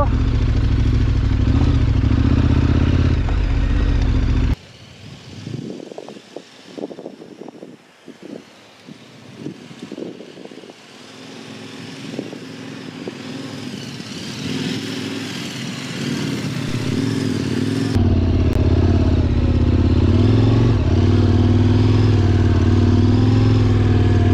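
A heavy motorcycle engine roars loudly while riding through sand, then drops away to wind and crunching, clattering noise before the engine surges back strongly.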